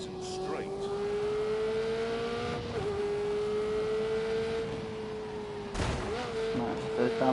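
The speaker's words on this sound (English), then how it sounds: "now I've got to fucking drive a Ferrari" Ferrari race car engine in a PS4 driving game, a steady sustained drone with shifting pitch, a few sharp cracks or bangs breaking in, talk over it throughout.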